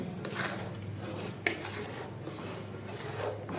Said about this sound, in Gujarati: એમાં ગાંઠા પડી જાય એટલે આપણે ફટાફટ હલાવશું